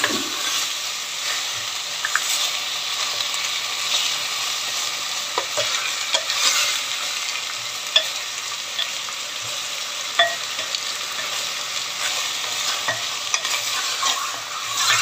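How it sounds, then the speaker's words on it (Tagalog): Pork belly fries in a pan under a continuous close sizzling hiss, with scattered soft clicks and scrapes as it is stirred, no voices. "halu-haluin lang po natin"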